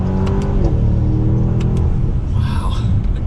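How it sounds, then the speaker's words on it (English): A 2020 Mercedes-AMG S63 accelerates hard in second gear, its exhaust a loud, rising rumble that shifts pitch partway through, with a voice briefly audible alongside. "From the outside, you can hear the exhaust a good bit."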